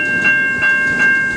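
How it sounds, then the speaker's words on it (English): A stopped CN freight train starts rolling at the Mill Street railroad crossing in Ecorse, Michigan, with rhythmic wheel clatter pulsing about every third of a second under a steady, piercing crossing bell tone. "Shoreline train is now finally moving"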